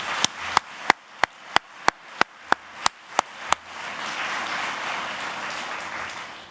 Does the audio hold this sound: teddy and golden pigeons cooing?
no